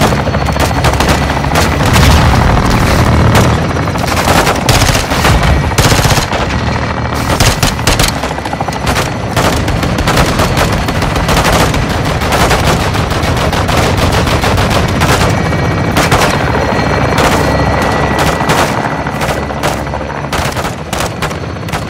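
A helicopter gun run in a Ghost Team video game: loud, sustained bursts of rapid machine-gun fire with booming impacts, dense and continuous for about twenty seconds, with no speech.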